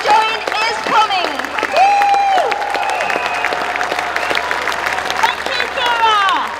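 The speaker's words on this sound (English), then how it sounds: "Please give yourselves a big cheer for coming together for a common cause" A crowd at a pro-EU rally in London breaks into loud applause and cheering, sustained clapping filling the space with whoops and shouts rising over it throughout.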